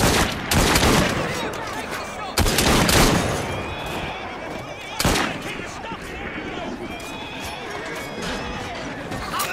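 Gunshots from the video game Assassin's Creed Syndicate: three sharp, loud bangs at uneven intervals over busy game ambience and lingering noise.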